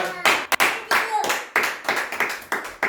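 Church congregation applauding in bursts of clapping, rhythmic and fairly loud, with brief pauses between rounds and a faint voice mixed in.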